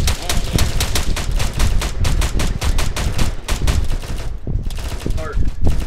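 Sustained suppressive gunfire in the Arma 3 video game during a town assault training op, rapid rattling bursts packed densely throughout, loud and continuous with a brief lull near the end.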